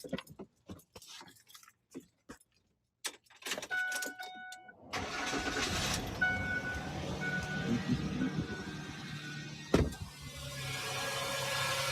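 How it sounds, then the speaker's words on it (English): A car is started while its alternator is being tested: a few keys jangle and click, then the ignition chimes and the engine cranks and catches, settling into a steady idle with a brief louder clunk near the end. "let's start the vehicle up and let's see what it does."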